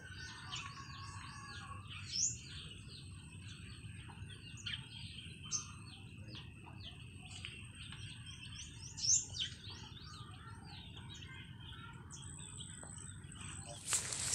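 Scattered bird chirps and tweets ring out at a distance over a steady low outdoor rumble, with a few sharper calls standing out.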